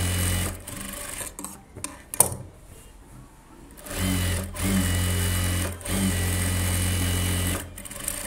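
Sewing machine running a double line of stitching on a silk pavadai, loud steady whirring bursts broken by short pauses.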